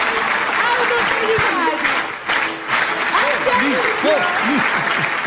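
An audience at a live radio-TV comedy broadcast applauds in a sustained, dense wash while people talk over it close to the microphone.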